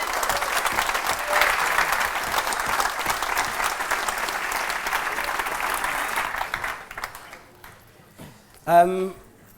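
Loud audience applause and cheering at a live conference event welcoming a guest on stage, a dense crowd wash that tapers off, followed by a brief voice.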